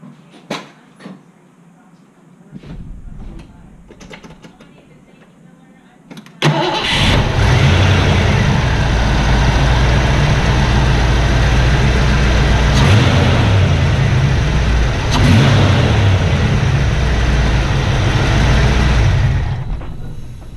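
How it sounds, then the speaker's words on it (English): A 1986 Ford Mustang GT V8, just fitted with a new distributor cap, plugs and coil, cranks briefly after a few quiet clicks and catches. It settles into a loud, steady, close idle with a couple of blips. "I'm going to once again start the engine, make sure I didn't get the firing order off."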